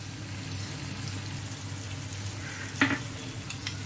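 Chilli soya gravy fries in a pan with a continuous moderate sizzle, and a brief splash and hiss rises as tomato sauce goes in; there is a low hum underneath and nobody speaks.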